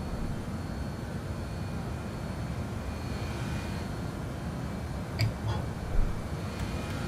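Inside an airliner climbing after takeoff in Microsoft Flight Simulator 2020, a steady, low engine roar continues without a break, with a couple of faint clicks partway through.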